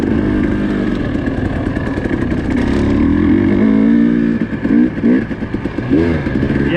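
Dirt bike engine revving while riding in the desert at Hemmingway Butte, a loud continuous close buzz with wind rush and several sharp throttle blips toward the end.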